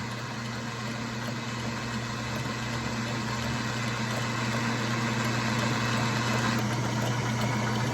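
A 1947 metal lathe runs steadily while knurling a metal workpiece, giving an even motor hum with a faint rhythmic whir and constant mechanical noise throughout.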